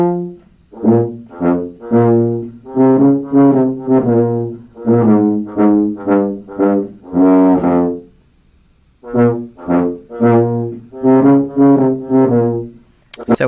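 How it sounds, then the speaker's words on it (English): A tuba plays a sequence of deep, round, separated brass notes in a lively melodic phrase, close and loud, with a short pause before the phrase resumes. "And a tuba sounds like this."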